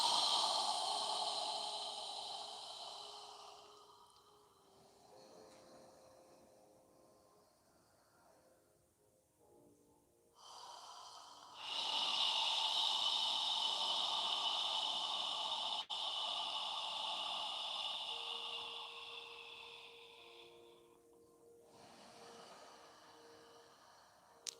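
Yoga breathing: long, steady, hissing breaths pushed against the back of the throat, close and soft, with a quiet pause between slow exhales and no talk.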